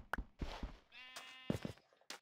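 Sheep bleat in Minecraft, a few short wavering cries with a sustained tonal bleat in the middle, close and clear, interspersed with brief background sounds.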